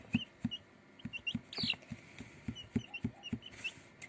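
Several six-day-old chicks, one hen and two cockerels, give soft repeated peeps and cheeps close by, with occasional faint knocks in a quiet indoor setting.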